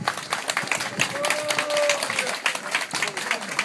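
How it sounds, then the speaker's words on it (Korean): Audience clapping at a summer-night beach concert by a wind band alumni group, dense broadband applause with crowd noise and a voice talking over it. "박수 한번 부탁합니다."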